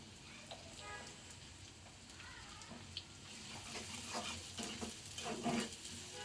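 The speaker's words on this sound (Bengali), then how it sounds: "আমি এখানে পেঁয়াজ কাঁচামরিচ একসাথেই ভেজে নিব।" Onions and green chilies fry together in a pan for a Bangladeshi pangas fish ghonto, giving a quiet, steady sizzle with soft stirring scrapes that grow a little busier toward the end.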